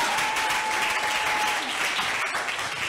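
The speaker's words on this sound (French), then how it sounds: "Acclame bien." A church congregation applauds during a French-language service, the clapping a dense, steady wash of many hands that carries on without a break, with a faint voice underneath.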